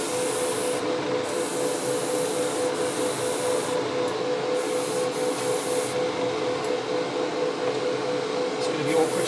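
A Gaahleri Swallowtail SD airbrush sprays paint just outside an AF720 spray booth, giving a steady, continuous hiss with a low hum from the booth fan running underneath.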